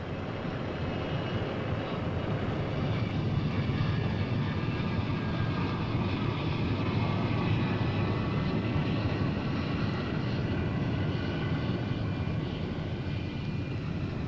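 North American X-15 research aircraft in flight, a continuous loud broadband engine roar holding steady throughout with no voices.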